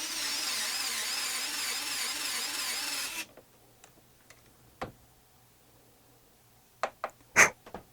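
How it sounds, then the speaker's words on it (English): Power drill spinning a brass cartridge case in a trimming die, a loud steady whirring grind for about three seconds that stops abruptly, followed by quiet scattered clicks and taps of handling the brass. "stick it down into the trimming die, bottom it out,"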